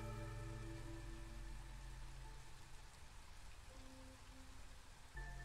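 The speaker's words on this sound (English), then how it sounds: "We're in drizzle." Drizzle in the video game Against the Storm falls as a steady, soft hiss of rain under low sustained game music tones, faint and unbroken with no talking.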